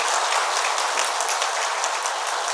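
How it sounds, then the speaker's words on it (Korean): Congregation applauding during a church service, a steady dense wash of clapping that fills the whole moment with no talk over it. "큰 격려와 또 축하의 박수 한 드리면서 격려하겠습니다."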